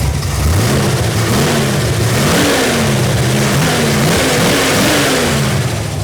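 A stroked 307 V8 with long tube headers in a muscle car revs hard and loud, the pitch climbing and dropping in repeated blips over a continuous, close engine roar with no talk.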